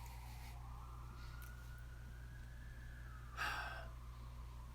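A faint siren wails in the distance, its tone slowly rising and falling over a low steady hum, with a brief breathy rustle near the end.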